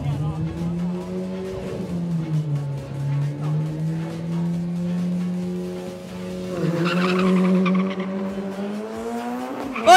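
A drag car, number 407, making a run at a drag strip in Chonburi, Thailand, a loud sustained engine drone that holds then rises in pitch, with an announcer talking excitedly over it.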